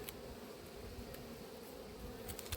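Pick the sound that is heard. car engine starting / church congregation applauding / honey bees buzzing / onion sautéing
honey bees buzzing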